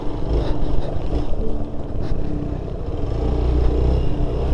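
X-Pulse 200 BS6 motorcycle ridden along a windmill trail in Karnataka, its engine drone steady and loud throughout under heavy wind buffeting on the microphone.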